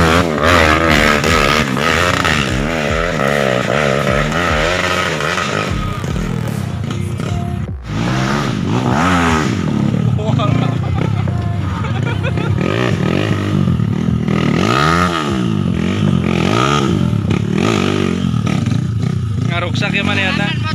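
A motorcycle revs hard while climbing a steep hill in a hill-climb contest, its engine loud and close, wavering and surging in pitch with a brief cut near the middle, while people talk and shout over it.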